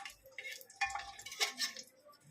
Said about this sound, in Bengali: এখন এটাকে একটু নেড়ে নিন ভালো করে।